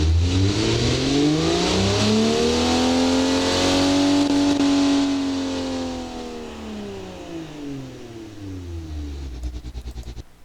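A 1960s sports car engine in the Automation/BeamNG driving game revs up and back down in one long, smooth sweep, then settles into a rougher idle with a few sharp blips near the end, loud and close with no voices.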